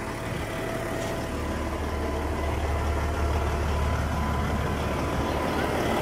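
A 1000hp truck's Detroit diesel engine idles right after starting, a steady low rumbling drone heard at moderate distance with faint background voices.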